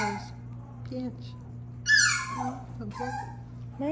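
A cavapoo puppy whimpers and whines in short, high, rising cries, one louder yelp near the middle, close by in a quiet room with a low steady hum and occasional talk.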